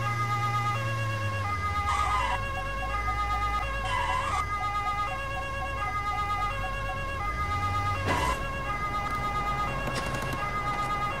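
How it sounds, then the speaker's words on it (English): A police car siren in a video game wails in repeating cycles alongside a steady engine hum, loud and close, with occasional whooshing bursts and no talking. "We're gonna have the siren, because maybe the siren, even though I can't stand the noise"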